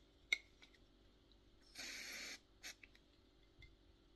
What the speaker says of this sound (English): this spray can is the activator for the glue